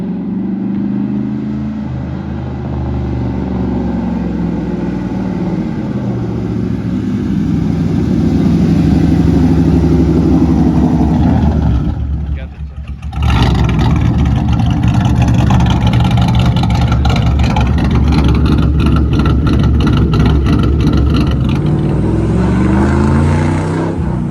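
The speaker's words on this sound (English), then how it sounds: "Car sounds really good. It's actually straight piped, and so sounds really good. No mufflers" A straight-piped Ford Mustang GT with no mufflers rumbles loudly and continuously from close by, the engine note swelling, dipping briefly, then returning to a strong, steady drone.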